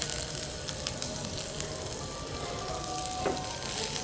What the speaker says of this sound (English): make sure that you heat the oil to a specific amount and then add in the onions